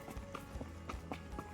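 Several horses walk along a fall trail, their hooves clip-clopping in a steady, overlapping rhythm at close range, fairly soft.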